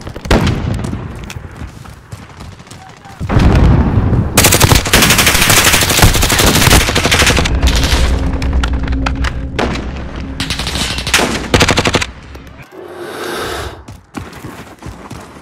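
Loud, dense automatic gunfire and bursts of shooting in the Call of Duty: Modern Warfare multiplayer game, sustained rapid fire with booming impacts that cuts off abruptly before quieter game sounds return, no talk.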